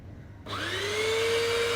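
An electric grinder on a coffee setup starts up and spins coffee beans, a sudden whirring hum that rises in pitch and settles into a steady loud drone, close by.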